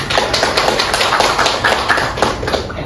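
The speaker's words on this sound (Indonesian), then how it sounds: "Tepuk tangan untuk Saskia." A classroom full of people claps steadily in dense, continuous applause, loud and close, without any talking.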